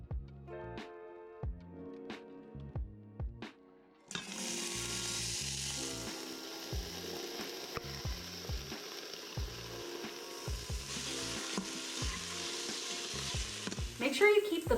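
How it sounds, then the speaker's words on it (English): Corn toasts in olive oil in an Instant Pot on sauté mode, first with a few clacking spoon knocks, then a steady loud sizzle with rhythmic stirring and scraping running through to the end. "we're going to go ahead and add in the 1 teaspoon of olive oil, and then we're going to start toasting our corn"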